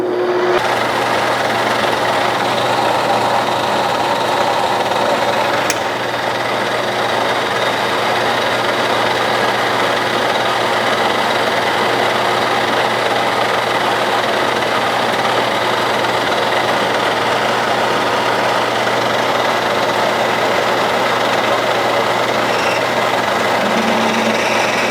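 A lathe runs at raised speed while machining a hydraulic shaft part, giving a steady, loud mechanical whine and hum that continues unbroken with no talk.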